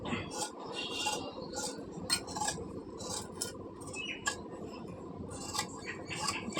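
Scissors cut through blouse fabric in a tailoring session, a steady run of crisp snipping and metallic blade clicks close by, with soft fabric rustle underneath and no talking.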